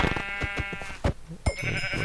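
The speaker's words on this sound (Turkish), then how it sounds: "Hmm, koyun." A sheep bleats in the game Minecraft, giving a couple of short, wavering cries close by amid other in-game noises.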